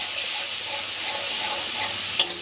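Ground spices with cumin and chili powder sizzle and fry in oil in a pan, a steady close hiss with light stirring scrapes and a brief sharp clink near the end.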